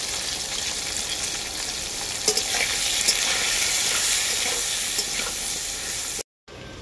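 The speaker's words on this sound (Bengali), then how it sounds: "আলুটাকে আমি খুব ভালো করে ভেজে নিয়েছি।" Potato pieces seasoned with salt and turmeric frying in oil for a fish curry, a dense continuous sizzle with a few brief clanks from stirring, close and loud, ending in a sudden cut to silence.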